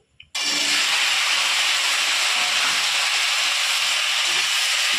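Potato and pumpkin pieces dropped into a hot pan of oil burst into a loud, sudden sizzle that holds steady as a continuous hiss.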